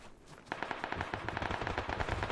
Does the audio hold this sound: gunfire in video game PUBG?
yes